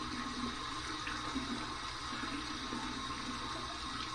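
A bathroom tap running on the cold side, a steady, even rush of water pouring continuously without pause.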